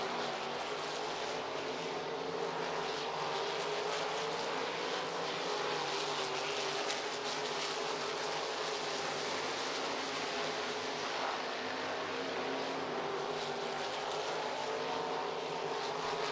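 IMCA sprint cars race a heat at I-90 Speedway dirt track, a dense, continuous engine roar from the pack holding steady throughout, loud and unbroken, without voices.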